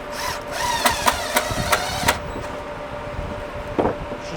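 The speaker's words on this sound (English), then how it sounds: "there's a drill there. I might put a screw in these to hold them together" A power drill whirs in several short bursts, driving screws into boards inside a van, with sharp clicks between, then a quieter pause and one brief final burst.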